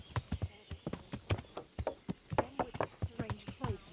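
Horse hooves clip-clop in a steady rhythmic gait in the medieval video game Kingdom Come: Deliverance, with voices talking over the hoofbeats.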